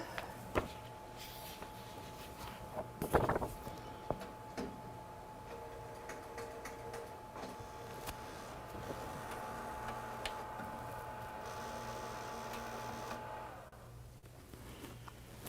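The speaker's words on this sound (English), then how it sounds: "there's definitely something up with my printer. Give me a moment. I'm going to go ahead and we will just chat while we do a head clean." An inkjet printer runs a print head cleaning cycle, giving faint, steady mechanical ticking and a thin whir with a few brief clunks in a quiet room. No one speaks.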